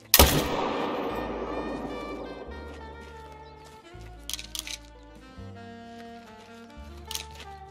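A loud hunting rifle gunshot in the video game Yukon Valley cracks once at the start and decays into a long rolling echo, followed by faint game sounds and soft ambient tones.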